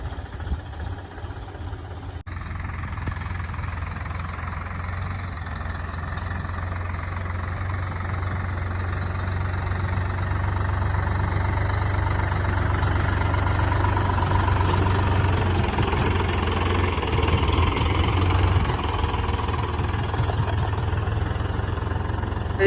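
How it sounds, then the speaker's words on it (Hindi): A John Deere tractor engine idles steadily at close range, a deep, continuous low rumble that swells slightly partway through, with no talking over it. "जॉन डियर ट्रैक्टर इंजन है यार"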